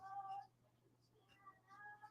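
A cat meows to be let in, a pair of short, faint cries separated by a pause, heard indoors under a steady electrical hum.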